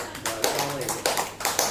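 Clapping from a small crowd watching a street magician performing a ring trick outdoors in Ganpatipule, India; a few sharp, uneven claps mixed with chatter and background noise.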